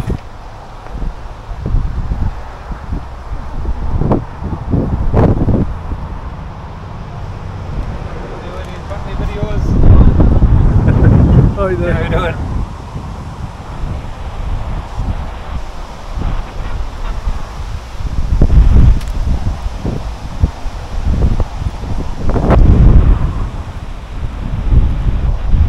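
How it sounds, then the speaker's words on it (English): Wind buffeting a microphone outdoors at a caravan and campervan dealership in Darlington, with loud low rumbling gusts coming and going across the clip while people talk over it. "It's a bit windy, sorry about that."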